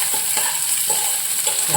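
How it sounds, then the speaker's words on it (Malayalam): Pongal stirred in a hot cooking pot with curry leaves added, giving a continuous sizzle with soft periodic scrapes of the spoon close by. "നമ്മൾ നന്നായിട്ടങ്ങ് ഇളക്കുക."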